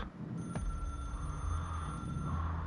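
A telephone rings steadily over a low ambient drone in the video game Control, a faint, continuous electronic trill with no voices.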